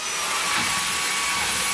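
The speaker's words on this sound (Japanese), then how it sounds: "掃除機をかけます" A household vacuum cleaner runs close by with a steady, unbroken whirring roar that holds an even loudness throughout, with no voices over it.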